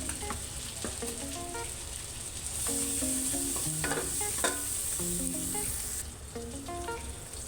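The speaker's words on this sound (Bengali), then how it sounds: "এখন পেঁয়াজ কুচিগুলো দিয়ে দিচ্ছি" Chopped onions hit hot oil in a pan for shrimp pilaf, setting off a steady broadband sizzle that swells louder midway, with spoon stirring and scraping clatter throughout; no voices.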